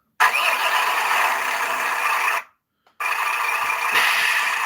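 An RC vehicle's electric motor runs loudly indoors on a workbench, a steady broadband whine that cuts out briefly before resuming.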